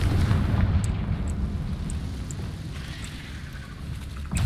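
Confringo blasting spell explosion in a Harry Potter video game: a loud, deep booming blast that rolls on as a low rumble and fades away.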